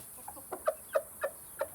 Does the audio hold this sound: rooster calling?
yes